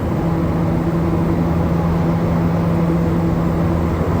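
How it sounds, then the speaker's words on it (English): Traction motors of a Montreal Metro train, heard from inside one of the middle cars on a long ride: a steady, loud, droning hum with a low tonal whine, continuous and with no talk. "So because we're in one of the middle cars, we get to hear the motors."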